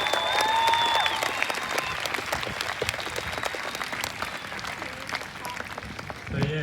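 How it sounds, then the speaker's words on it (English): A rally crowd at the end meeting point of a Freedom Rally in Darwin, NT breaks into sustained applause, a dense steady wash of many clapping hands with a few whistles early on, holding at full strength for the whole stretch. "So a big round of applause to all you legends."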